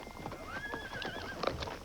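Horses whinny in a rising, wavering neigh while hooves clip-clop unevenly beneath, close and moderately loud, with no talking.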